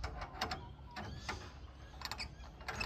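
Eagle Cherokee camper stabilizer leg cranked with a leg winder, faint close mechanical ratcheting clicks in short irregular bursts.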